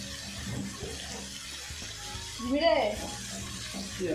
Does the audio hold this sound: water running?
yes